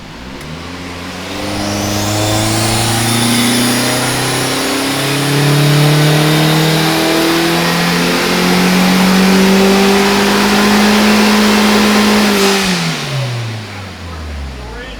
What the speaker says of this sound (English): Turbo noises and better exhaust sounds.